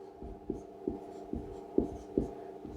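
Chalk or marker strokes on a board while a class 10 geometry lesson is written out, about five distinct scratchy taps spaced roughly every half second over a low room hum, fairly close and moderately quiet.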